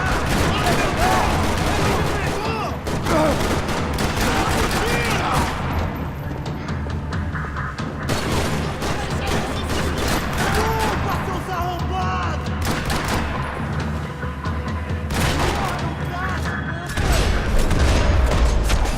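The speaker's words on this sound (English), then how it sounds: "Another parking lot rattling with gunfire." Repeated gunfire and bursts crackle through a parking lot shootout in the video game Max Payne 3, sustained and dense across the whole stretch, with a heavier boom near the end and some voices mixed in.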